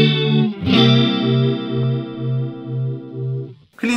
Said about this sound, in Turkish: Şimdi hafif chorus verelim bakalım.